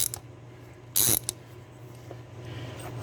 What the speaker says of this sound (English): Put your ratchet on there.